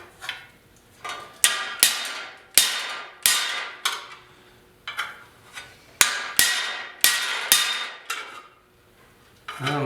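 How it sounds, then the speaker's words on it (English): Hammer striking a 3/8 bolt held against a rusty transmission cover on a 1956 Mercury, about fourteen sharp metallic taps in an uneven rhythm, each ringing briefly before fading, close and loud with no talking. "And you just take a bolt, 3/8 bolt, and we'll give it a couple taps."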